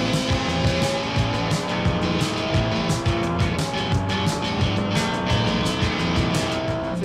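A Lamborghini Huracan STO being driven hard: loud engine roar with rhythmic pulsing from gear and throttle changes, plus road and tire noise, heard steadily from inside at close range.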